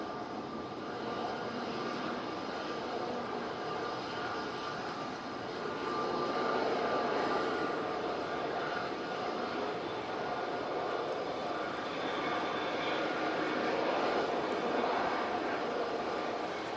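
An Emirates Airbus A380 jet airliner goes around, its engines giving a steady, distant roar that swells slightly partway through and holds.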